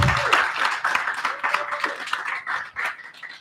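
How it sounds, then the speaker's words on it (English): A workshop audience gives a short burst of applause for presenters, a brief patter of many hands at moderate volume in a room, with some faint voices mixed in. "Another round of applause for our presenters."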